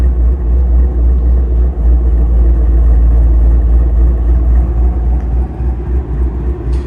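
A Ford Mustang GT350 with a ghost cam tune and off-road catalytic converters idles steadily, a deep, loud, continuous rumble with a loping, uneven pulse, close by and with no talking.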